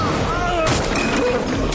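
Firecrackers bursting during a tense kidnapping scene in a film, with a sharp loud crackling burst partway through, over tonal background sound and voices.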